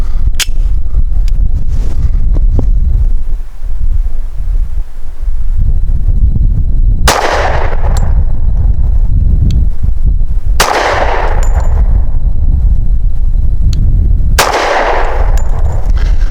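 An American Classic Commander-size 1911 pistol firing Federal Premium Low Recoil 165-grain .45 ACP outdoors, three sharp, loud shots spaced several seconds apart over steady wind noise.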